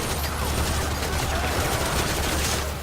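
Continuous rapid gunfire in the opening of the video game Metal Gear Solid V: The Phantom Pain rattles throughout, dense bursts of shots blending into a loud, sustained barrage.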